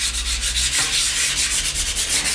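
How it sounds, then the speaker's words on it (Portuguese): Fine sandpaper rubbed by hand over a decoupage craft piece, giving steady rapid back-and-forth scratchy strokes, close and continuous, with no talking. "Agora eu vou dar uma lixada com uma lixa fina."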